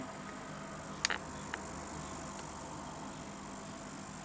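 A Blaupunkt HSB601 ionizing hair straightening brush gives a faint, steady high buzz close by, with a couple of brief clicks.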